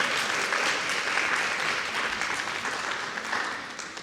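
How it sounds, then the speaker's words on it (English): Applause from an audience fills a room at an annual scholarship and awards ceremony, sustained, dense clapping that stays steady and fairly loud before easing slightly toward the end. "We give them a round of applause for 6 years."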